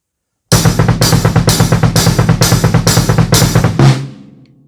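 A drum kit plays a steady, even groove at full tempo, loud and close, with regular strikes about every half second for several seconds before stopping and leaving a short ringing decay.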